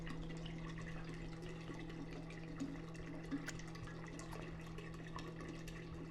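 Cold tap water running into a plastic Mr. Beer fermenter, a continuous soft splashing and trickle beneath a steady low hum, fairly quiet and unbroken.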